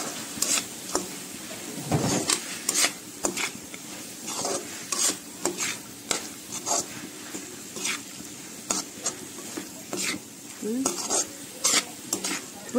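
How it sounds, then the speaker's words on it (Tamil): Red meat frying with fresh mint in a pan for a chuka dish, a steady sizzle broken by repeated sharp scraping stirs and clanks of the spatula against the pan, close and fairly loud with no voices. "இப்போ நம்ம ஃப்ரை பண்ணிக்கலாம்."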